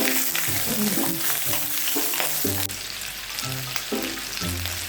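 Pork ribs sizzle and fry in a pot while being stirred with a spatula, with steady loud crackling and repeated scraping strokes throughout and no talk.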